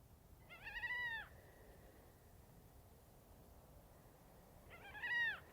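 Two drawn-out, wailing gull cries sound several seconds apart at night in the Atacama Desert against a quiet, hissy background, each call harmonic-rich and mournful.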